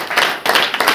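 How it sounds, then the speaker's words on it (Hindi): A church congregation at a Hindi-language worship meeting claps hands together in quick, rhythmic bursts, loud and close, with no voices over it. "ताली बजाकर परमेश्वर"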